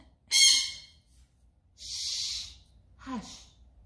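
Small pet birds make a few short, breathy calls and sneeze-like bursts, close by, indoors, separated by brief quiet gaps.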